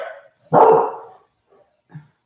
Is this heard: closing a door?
no